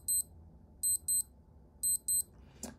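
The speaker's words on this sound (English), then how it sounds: "you can hear it beep if you go to the alarm mode and you hold down the right button." A Casio AL-190W solar watch in alarm mode, right button held, gives five short, sharp electronic beeps in pairs and singles, close and clear, followed by a brief click of handling.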